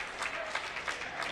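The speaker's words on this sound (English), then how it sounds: "the crowd applauds him" A high school basketball crowd applauds steadily as a senior player walks off the floor at his last home game, a sustained wash of clapping with a faint voice beneath it.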